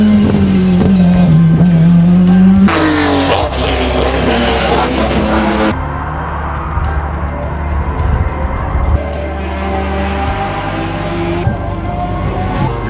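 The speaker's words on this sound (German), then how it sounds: "Lukas Boric hat darin einen BMW S1000R Motorradmotor mit über 208 PS verbaut." A hillclimb race car powered by a BMW S1000R motorcycle engine of over 208 hp screams at high revs, shifts with a sharp pitch change, then accelerates hard and fades as it passes, with a brief tyre squeal.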